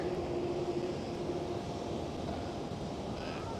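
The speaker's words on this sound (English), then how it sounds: "KLM A330, who just took off from runway 18 left." A KLM Airbus A330 takes off from runway 18 left at Amsterdam Schiphol, its engines a steady, fairly distant broadband roar with no talk.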